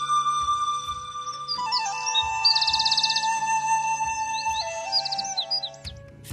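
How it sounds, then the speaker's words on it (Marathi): Birds chirping in natural countryside near Tapola by the Koyna backwaters in Mahabaleshwar, with repeated bright tweets and trills over a steady background, fairly close and clear with no talking. "कर्णमधूर वाटणारा निसर्गातील पक्ष्यांचा किलबिलाट"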